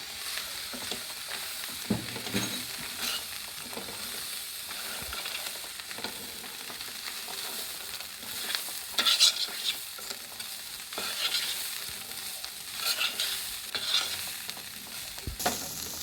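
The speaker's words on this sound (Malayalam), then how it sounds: "നമ്മുടെ കടല വേവിച്ച് വെച്ച കടല തട്ടി കൊടുക്കുകയാണ്" Boiled chickpeas stirred in a frying pan, a soft continuous sizzle with scattered scraping strokes of the spoon, fairly faint and close, with no talking.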